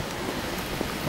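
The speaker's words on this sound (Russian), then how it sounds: "Дождь идет, идет." Rain falling on a street in Santa Cruz de Tenerife in the Canary Islands, a brief, steady broadband hiss of drops on surfaces, with no voices.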